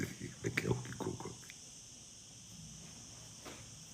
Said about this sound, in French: C'est des cigales.